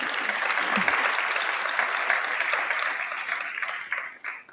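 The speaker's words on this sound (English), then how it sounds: "That was an applause line." A conference keynote audience bursts into applause after a remark about Canada, dense steady clapping from a crowded hall that thins out and trails off into scattered claps near the end.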